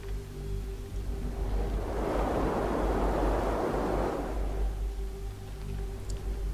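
Wind in the video game Never Alone, a steady rushing gust that swells loudly in the middle and then eases back, with no voices over it.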